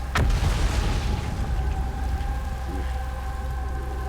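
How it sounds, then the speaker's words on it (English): In the video game Outer Wilds, a sharp burst sounds on the crumbling planet Brittle Hollow, then fades into a low, rolling rumble under a steady ambient drone. "Weird explosion things on Brittle Hollow."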